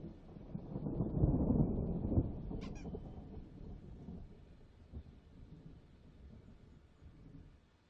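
Distant thunder from an approaching storm in Alan Wake rolls in a low, deep rumble, swelling and then fading gradually, fairly faint and with no voices over it.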